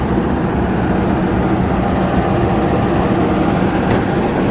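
Train at Gambir station being readied to depart for Bandung: a loud, steady broadband rumble of an idling locomotive or engine with constant low drone and no distinct events or voices.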